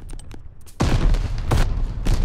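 Grenade explosion and gunfire in Call of Duty: Vanguard's Eagle's Nest Domination match, with faint tapping followed by a loud, sudden blast and a burst of shots rattling close by.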